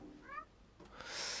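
A cat meows in the video game Stray, a short pair of rising mewing calls at moderate level, followed by a brief scuffle and a swelling hiss of ambient game noise.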